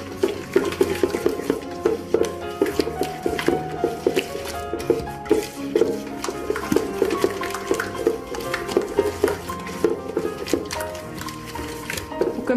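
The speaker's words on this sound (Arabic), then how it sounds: "كنخلط كلشي مزيان." Cookie dough ingredients being stirred together in a bowl by hand, with a steady run of scraping, clicking and clinking from the utensil against the bowl, close and fairly busy throughout, no talking.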